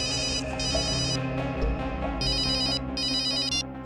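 A telephone rings in bright repeated trilling bursts, two pairs of rings separated by short gaps, set over a dense dramatic background score.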